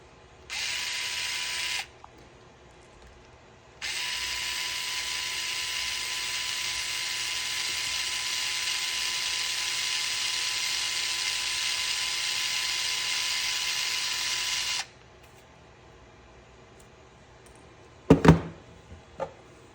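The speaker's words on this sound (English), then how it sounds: "I'm going to remove these 2 bolts that hold the rear axle truss" A small electric driver whines steadily in two runs, a short burst then a long stretch, while backing out the rear axle truss bolts on an SCX24 RC crawler, followed by a few light metallic clicks near the end.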